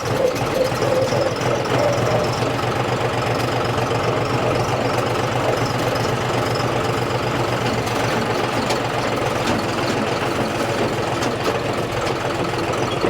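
A John Deere tractor engine runs steadily in second gear at roughly idle speed, about 700-800 rpm, over a rough path. The low, continuous mechanical drone stays loud and unbroken throughout, with no voices.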